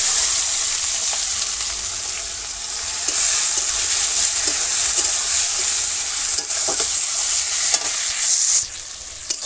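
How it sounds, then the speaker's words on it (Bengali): Chopped onions sizzle steadily in a hot pan in a village kitchen on a rainy day, with salt and turmeric added. A loud, continuous frying hiss runs throughout, with occasional stirring scrapes and no voices. "এবার এখানে পেঁয়াজ কুচিগুলো দিয়ে দেবো।"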